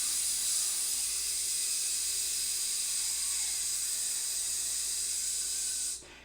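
A clarinetist pushing fast air in a breathing exercise, a steady loud hiss of forced breath held for about six seconds before stopping abruptly, close up and without talk.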